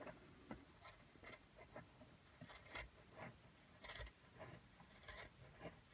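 Scissors snip through sock fabric while a Christmas jumper is cut for a doll, giving a series of quiet, short crisp cuts and rasps at an uneven rhythm, close by and with no voices over them.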